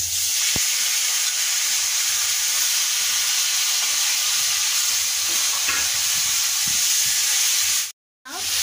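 Chicken pieces fry in a hot pan, giving a steady broadband sizzle with a few stirring scrapes; near the end the sound cuts out briefly before resuming.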